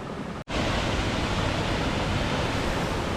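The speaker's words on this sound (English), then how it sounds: "So this is like the main viewing point of Aira Force, where you get to see the big waterfall." Aira Force waterfall roaring as a dense, steady broadband rush, loud and close, with no voices, apart from a split-second dropout near the start.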